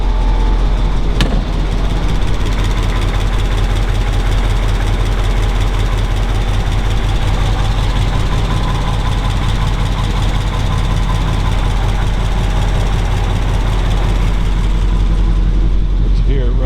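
A custom 1940 Mercury flathead V8 idles with a steady, deep, even rumble that stays loud and close the whole time, with no other noise on top.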